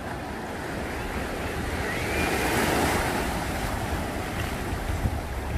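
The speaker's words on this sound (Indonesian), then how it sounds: "Ombak mulai besar ini guys." Steady roar of ocean surf at Bingin Beach in Bali, heard as continuous broad wash with rising and falling swells, buffeted by wind noise on the microphone, and no voices.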